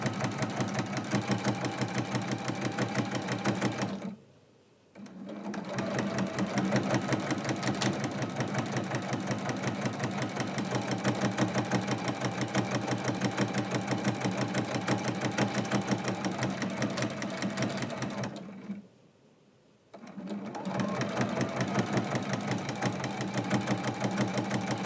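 A sewing machine runs continuously while quilting blocks, with a steady, loud mechanical whir and rapid stitching rhythm, stopping briefly twice before starting up again.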